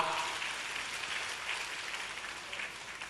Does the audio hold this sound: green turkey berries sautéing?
no